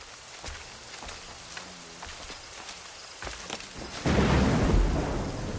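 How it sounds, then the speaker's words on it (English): A thunderstorm rolls through Assassin's Creed Rogue: soft rain and faint scattered thumps, then a deep, loud thunder rumble swells and lingers toward the end. "This storm's getting worse."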